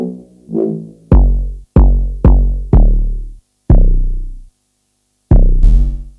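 Kwaito trap beat made in FL Studio, with booming 808 bass notes layered under a plucked melody; heavy hits land in an uneven rhythm, each decaying slowly, with a short gap before a final buzzy burst, loud and dry.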